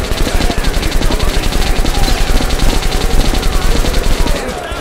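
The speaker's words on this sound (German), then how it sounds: "Ich will mit dem MG schießen." Rapid, sustained machine-gun fire in fast bursts from the video game Metro: Last Light Redux, loud and close, with steady rhythmic shots running almost the whole time before cutting off.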